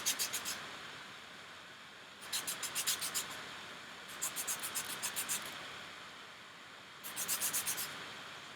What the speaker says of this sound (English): You can clean your stump on these like this, rubbing it.